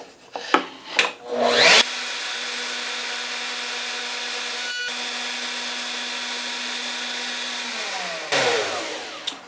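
Wood board fed through a power cutter again to clean off burn marks: a few handling knocks, then a loud sustained whining cut of about six seconds that ends and spins down, with no voices.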